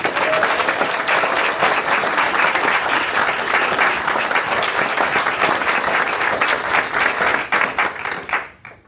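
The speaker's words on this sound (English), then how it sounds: "Help me give them a big round of applause." Audience applause at a school district board meeting honoring schools, a dense sustained clapping from a full room that holds steady for several seconds, then tapers off and stops near the end.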